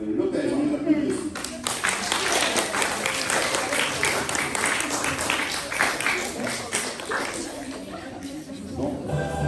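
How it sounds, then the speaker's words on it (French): A school audience claps for a competing team, dense and sustained applause with scattered cheers, fading slightly toward the end. "on les applaudit aussi"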